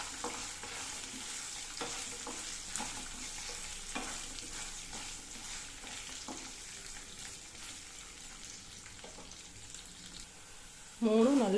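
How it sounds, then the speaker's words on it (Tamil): Fifty grams of cut ginger sauté in a pan with a quiet, continuous sizzle, punctuated by regular scraping stir strokes, before a sudden louder clatter at the very end. "அடுத்தது கட் பண்ணி வச்சு 50 கிராம் இஞ்சி நல்லா பச்சை வாசனை போக வதக்கிக்கணுங்க."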